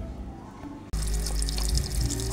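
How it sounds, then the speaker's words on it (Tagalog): Water gushes steadily into a pot after a brief hush, a loud, continuous splashing pour that fills the rest of the moment. "Okay, lagyan natin tubig"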